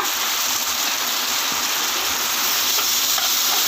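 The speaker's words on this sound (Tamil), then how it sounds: "உப்பு சேர்த்துட்டு நல்லா பேஸ்ட் மாதிரி நல்லா வதங்கட்டும்" Tomatoes with salt sautéing in a pan for a chicken sukka dish, giving a steady, close hiss of frying and sizzling throughout with no talk.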